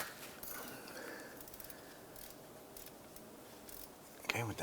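A ratchet wrench clicks and turns while loosening the power steering pump bolt from beneath a 2006–2011 Honda Civic, a quiet run of metallic clicks and scrapes ending in a brief, louder clatter.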